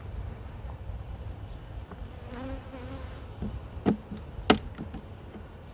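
Bees from a new package hive buzz softly during an inspection, a faint low hum with a few brief knocks and taps from handling the comb.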